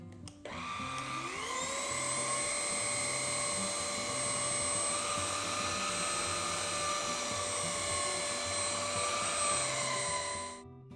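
A steady high-pitched motor whine rises as a Levoit LVAC-120 cordless stick vacuum starts up on its carpet setting, then runs continuously over an area rug for about ten seconds before winding down.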